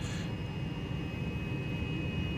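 Twin jet engines of a Fouga Magister in a flight simulator game roar as a steady, loud broadband drone that holds without break throughout.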